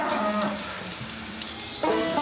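Dairy cows on a farm in Britain moo in long, drawn-out calls, one near the start and another louder one at the end, with low farm ambience between.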